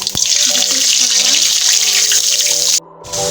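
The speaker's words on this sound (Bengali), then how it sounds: "কড়াই গরম হয়ে গেছে, শুকনো মরিচ এবং জিরা ফোড়ন দিয়ে দিলাম।" Dried chillies and cumin sizzle steadily in hot mustard oil in a pan, a loud continuous hiss that drops away briefly near the end, with a voice faintly under it.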